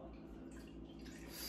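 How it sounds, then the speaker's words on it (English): Water is poured slowly into oil for a homemade lava lamp, making a soft, continuous trickling and splashing that stays close and fairly quiet. "Now we're putting in the water."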